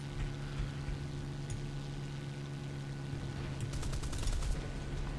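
Anti-aircraft flak fire in War Thunder pops in a rapid, fairly faint string of bursts over a steady droning engine hum, with no talking.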